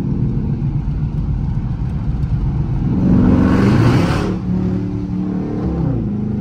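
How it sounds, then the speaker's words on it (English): A 2019 Dodge Charger R/T in track mode, not yet warmed up, holds a steady engine drone before surging into a loud, rising acceleration pull for about a second, then settling back to a lower cruising rumble. "Once again, this is a 2019 Dodge Charger RT. We are in track mode."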